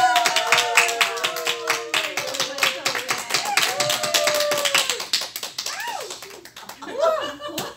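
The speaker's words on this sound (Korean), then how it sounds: "박수 한번 칩시다." A church congregation claps to welcome new members, a steady run of brisk handclaps from a small gathering with a pastor speaking over them, the clapping fading as his voice continues.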